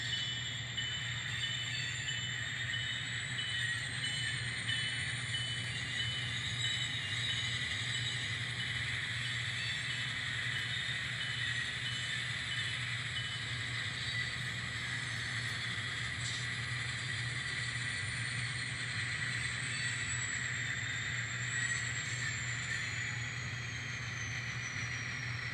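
N scale model train rolling along its track after soldered power feeder drops, a faint steady whir and hum with a thin high whine, no talking.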